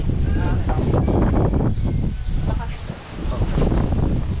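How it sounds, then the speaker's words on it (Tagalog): Strong wind at the seaside roars in broad gusts close to the microphone, buffeting loudly throughout with rushing, fluctuating noise. "Malakas na ang hangin."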